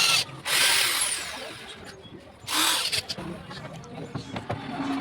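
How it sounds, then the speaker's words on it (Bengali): A power drill drives screws into the corner of a fiber gate, giving two loud bursts of high whirring separated by quieter stretches with faint knocks and background noise. "এবার স্ক্রু মারবো।"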